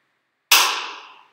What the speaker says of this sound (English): That's a stock standard gunshot.